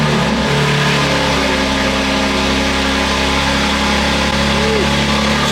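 The engine of a BMW X3M LCI on an E85 tune rumbles loudly and continuously close by, with the exhaust valves closed, holding a deep steady drone with slight rises in pitch.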